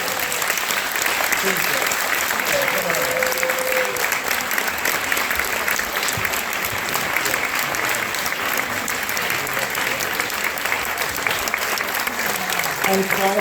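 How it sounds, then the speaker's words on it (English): A theatre audience applauds steadily and loudly after a performance of a play about Jan Karski, a dense sustained roar of clapping with someone speaking briefly over it. "I'd like to invite Derek Goldman up just so he can take a round of applause"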